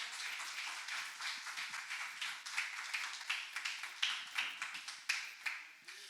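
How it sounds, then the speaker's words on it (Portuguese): A church congregation claps during a live worship service, a sparse, uneven patter of hands rising and falling over about six seconds at moderate distance, with no one speaking over it. "as palmas louvam o Senhor."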